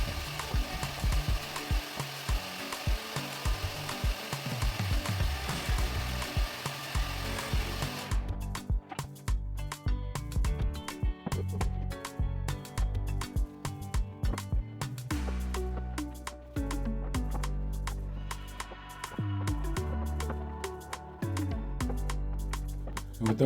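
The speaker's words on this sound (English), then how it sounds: "I'm going to go ahead and trim those off at a 45-degree angle on each end" A power saw trims the ends of a wood board at a 45-degree angle, giving a loud continuous whine and rasp at close range with no speech.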